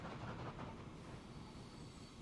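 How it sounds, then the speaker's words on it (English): A game oil train in Transport Fever 2 rolls past with a steady rumble and faint clickety-clack of rail wheels, quiet and continuous without talk. "Oh, there comes the oil train."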